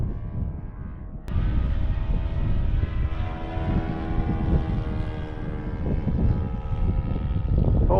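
Balsa 83-inch RC trainer airplane's engine run at full throttle, a steady droning buzz with strong harmonic whine that starts abruptly after a second and holds loud and close throughout.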